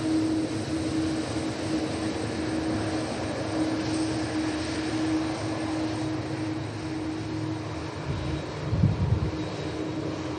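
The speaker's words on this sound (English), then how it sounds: "these CF6 engines. These are going to rattle this camera." A widebody aircraft with CF6 jet engines at Manchester Airport gives a sustained engine roar with a steady low hum, the noise building slightly near the end and heard without voices.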